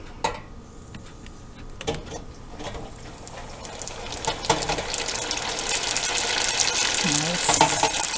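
Lobster rangoon lowered into a deep fryer, the hot oil rising from quiet bubbling into a loud, continuous crackling sizzle that grows over several seconds, with a few clinks of the basket early on.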